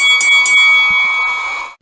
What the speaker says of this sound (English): When the timer is over, you will hear the bell.